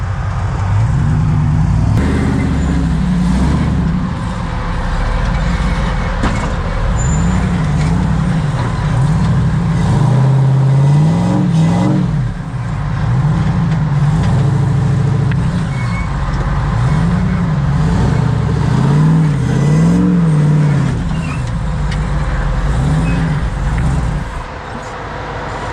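An off-road vehicle at an off-road park in fall, its engine droning loud and close with repeated revving swells as it turns around and drives back, steady throughout.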